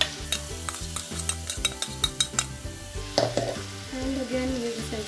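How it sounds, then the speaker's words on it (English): Green peas frying in very hot oil and stirred with a utensil, close sizzling mixed with rhythmic scraping and clinks of metal against the pan, no talking. "The oil is too hot, it might just splatter."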